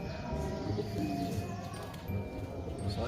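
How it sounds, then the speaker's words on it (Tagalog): A pigeon coos in a Pangasinan bird-training setting, soft repeated low coos at a slow, even rhythm, close by under a steady background hum and faint other bird sounds. "So ito na po yung ibon natin."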